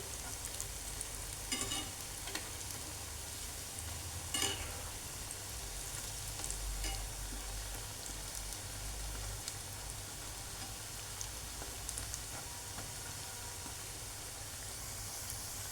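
Sweet corn pakoda frying in oil over a low flame, a soft, steady crackling sizzle that continues throughout with occasional small pops, fairly quiet and without talk.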